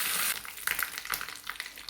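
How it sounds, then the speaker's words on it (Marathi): Mustard and cumin seeds crackle and pop in hot oil for a tempering, a brief burst of sharp sizzling snaps that starts loud and settles into scattered pops. "जिरं जिरं मोहरी छान तडतडली"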